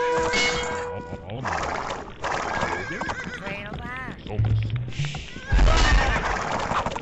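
Horse neighing in a video game, several loud whinnies standing out over clip-clopping hooves and busy game sounds, with a short thud near the end.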